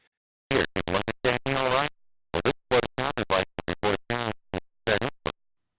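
Harsh, buzzy, heavily distorted digitized audio recorded on an Apple II with crude zero-crossing sampling plays in choppy bursts, crude and gritty like a voice rendered through very low-fidelity sampling.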